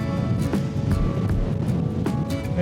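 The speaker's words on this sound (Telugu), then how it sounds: "విండ్ బ్లో చూస్తున్నారా, అసలు నా మాటలు నాకే వినపడట్లేవు" Strong wind gusting across Sugar Beach, a steady loud roar of broadband noise buffeting the microphone throughout, with faint surf-like wash beneath and no talk.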